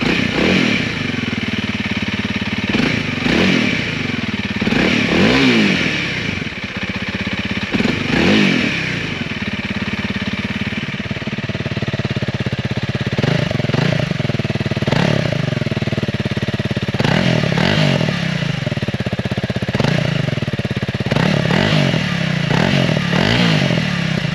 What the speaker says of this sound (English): Right, let's see how it sounds. nice single cylinder.